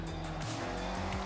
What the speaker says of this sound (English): Don't worry about traction. The MX-5 likes to be sideways.